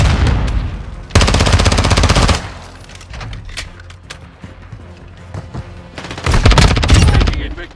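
Automatic gunfire in a video game, loud close bursts of rapid machine gun fire with quieter scattered shots and action sounds between the bursts.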